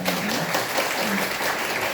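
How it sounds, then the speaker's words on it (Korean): Congregation applause during a church service, a brief dense patter of clapping filling the sanctuary, with a voice faintly present underneath. "박수로 격려해 주시기"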